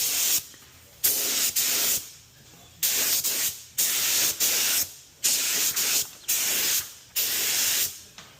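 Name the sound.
spray gun applying a coat of paint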